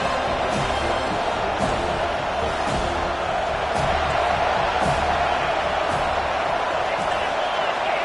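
Home crowd at an American football game roaring as the defense tries to get off the field on third down, a dense sustained rumble of voices with faint periodic thuds, under a commentator's talk.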